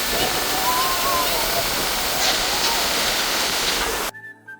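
A waterfall at Penchalakona roars loudly and continuously, a dense rushing wash of water that cuts off abruptly near the end.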